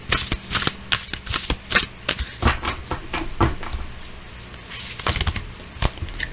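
A deck of tarot cards is shuffled up close in quick, repeated riffling bursts with a crisp papery flutter. The short pauses between bursts form an uneven rhythm, and no one speaks.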